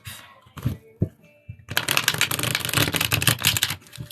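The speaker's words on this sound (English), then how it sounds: "I'm reshuffling these cards." Tarot cards being reshuffled: a few soft taps and handling sounds, then a dense, continuous riffling flutter of cards for about two seconds, close and fairly loud.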